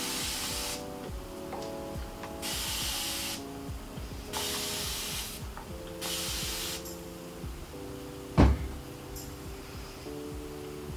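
Spray bottle misting water onto hair, several short bursts of hiss separated by pauses, with a faint mechanical clicking under them and a single sharp knock near the end.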